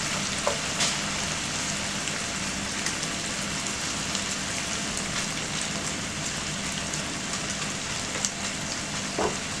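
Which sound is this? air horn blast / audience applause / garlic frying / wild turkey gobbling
garlic frying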